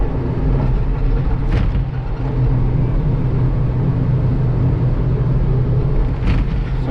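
A heavy excavator digs during the demolition of a tiny house, its engine giving a loud, constant low rumble throughout with two brief sharper scrapes.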